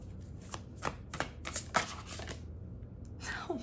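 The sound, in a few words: shuffling a deck of tarot cards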